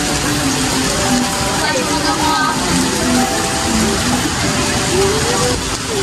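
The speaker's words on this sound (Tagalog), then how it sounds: "Lakas ang ulan." Heavy rain pours steadily in San Pablo City, a dense continuous hiss filling the scene, with people talking and faint traffic beneath it.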